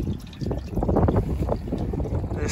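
Water runs steadily from a long white hose on a pasture riser, a close, continuous splashing rush blended with wind buffeting the microphone outdoors.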